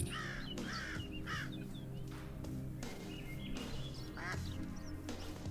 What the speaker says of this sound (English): and there's also a couple of ducks